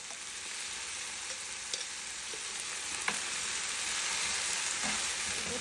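Shrimp paste (bagoong alamang) fries in a pan with a steady, continuous sizzle and crackle, broken by a few faint clicks and stirs, close and moderately loud with no voices.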